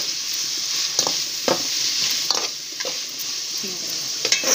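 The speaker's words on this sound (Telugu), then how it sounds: "ఇవన్నీ కూడా ఇందులో వేసుకొని ఫ్రై చేసుకున్నాం. ఇవి కొంచెం మగ్గనిద్దాము, అంటే ఈ విధంగా ఫ్రై చేయాలన్నమాట." Chopped vegetables frying and being stirred in a pan for mutton biryani, a steady close sizzle with intermittent scraping stir strokes.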